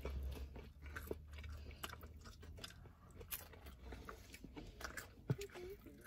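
Someone eats MrBeast Burger Beast Style fries with bacon, soft crunchy chewing and biting close to the mic amid low background noise, with a brief voice now and then.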